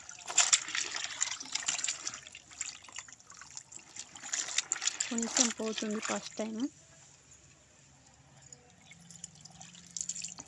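New clothes soaking in salt water, lifted so water drips and trickles back into the basin, with splashy bursts and a short run of distinct drips. Someone talks over much of it.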